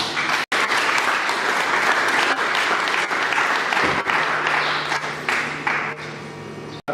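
Sustained applause from a gathered crowd at a funeral for an elderly man, dense and steady throughout with a brief break near the start.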